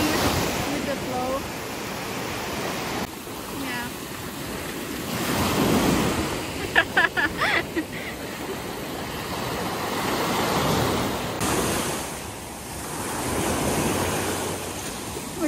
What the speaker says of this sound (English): When you just stare right at the ocean, it's kind of, whoa, the pelicans are just going with the flow.